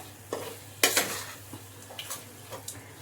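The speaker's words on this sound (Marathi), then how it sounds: "आता गूळ टाकून हे सुद्धा छान परतून घ्यायचंय" A spoon scrapes and clinks against a pan while wheat flour halwa with jaggery is sautéed, with a few sharp taps over a faint, quiet sizzle.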